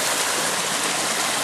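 A creek pours steadily over rocks in a forest, a loud, close, continuous broadband rush of water with no voices.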